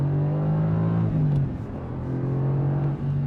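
A 2020 Aston Martin Vantage AMR's AMG engine hums steadily at close range, its pitch dipping briefly as the manual gearbox shifts down from third to second with rev matching, then holding a lower drone.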